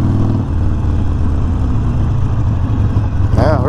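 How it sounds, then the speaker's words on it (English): A Harley Sportster Iron 1200 motorcycle rolls to a stop under braking, a steady loud low engine rumble throughout with no brake squeal, ending in a brief higher wavering sound. "Let me hit this brake again"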